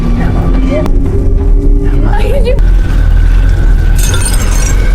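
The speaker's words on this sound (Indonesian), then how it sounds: "Kemudian lampu-lampu mulai berkedip beserta seisi ruangan pun bergetar hingga gelas pun terjatuh." Glass falls and shatters during a tremor in a room, a sharp breaking crash with clinking fragments set against film score and effects, with some voice present.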